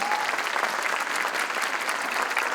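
Dense concert-hall applause greets a soloist, a steady wash of clapping from a large audience, loud and unbroken for a couple of seconds.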